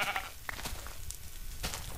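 Sheep in Minecraft give a few faint, short bleats at a distance, heard against a quiet background.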